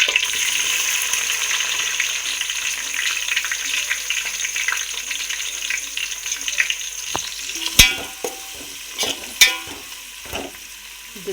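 Onions sizzling steadily in a hot pan for chicken biryani, a dense hiss with a few louder clatters of a spoon stirring near the end; no voices.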